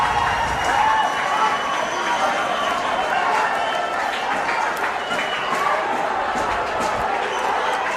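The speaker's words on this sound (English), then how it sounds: "listen to the crowd" Crowd cheering and shouting at a Japan versus India men's regu sepaktakraw World Cup final, a loud, continuous roar of spectators with excited voices, footfalls and thumps mixed in.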